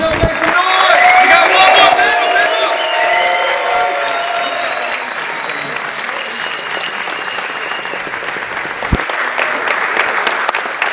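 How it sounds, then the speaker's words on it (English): Audience at a forex trading summit panel in Miami breaks into sustained applause and a standing ovation, loud and dense clapping at first, then gradually thinning out with a few scattered claps near the end. "Guys, you get a standing ovation for this incredible panel."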